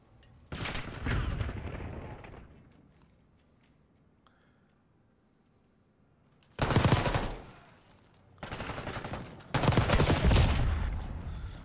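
Gunfire in the Black Ops 6 video game, heard as several loud bursts of rapid shots separated by short pauses, with no talking over them.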